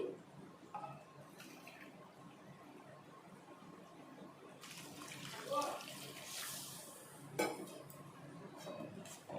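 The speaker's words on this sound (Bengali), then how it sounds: "এখন দিয়ে দিচ্ছি জল।" Hot water is poured into a pan of cooked-down egg curry masala in a home kitchen, a soft, faint splashing pour lasting a few seconds with occasional light clinks of utensils.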